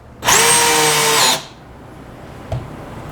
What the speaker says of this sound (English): put in my screws